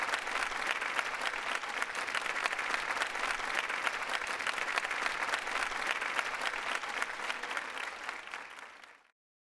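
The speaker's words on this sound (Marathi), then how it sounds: "जोरदार टाळ्याने आपण स्वागत करूयात" A studio audience at a Marathi comedy show applauds loudly and steadily in a dense burst of clapping that holds for several seconds before cutting off abruptly.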